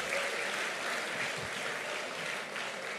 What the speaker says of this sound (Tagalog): Sige po, palakpak kay Jesus.